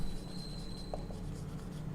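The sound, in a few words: writing the answer by hand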